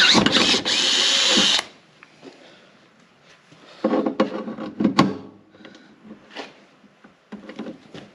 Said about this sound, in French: on perce ça en plus gros